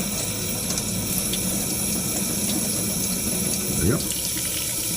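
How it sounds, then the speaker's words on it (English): Tap water runs steadily into a sink while an inking brush is rinsed under it, a continuous splashing hiss with a short spoken word near the end. "we just need to rinse it. And continue that massaging until all the brush cleaner is out of the brush."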